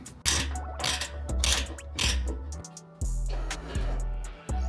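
A ratchet works loose a fender nut on a Mazda Miata, giving several bursts of close, loud mechanical clicking with brief pauses between strokes and no talking.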